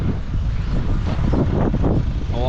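Strong wind buffets the microphone in an open farm field during corn planting, producing a continuous, heavy low rumble and roar with no talk, and a faint faraway whine rises near the end.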